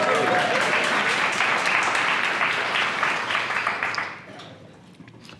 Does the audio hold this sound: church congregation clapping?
yes